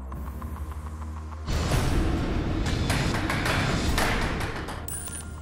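Tipping Point arcade-style game show machine: a steady low mechanical hum runs under it, then a drop zone fires and a loud broadband clatter of counters rolling and sliding across the moving shelves takes over, continuous with small taps, easing slightly near the end.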